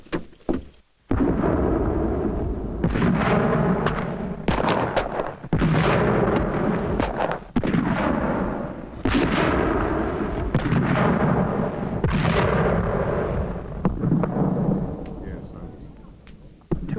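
Cannon fire bombards a fort during a siege, with a series of heavy, rolling booms that come every second or two and stay loud and dense throughout.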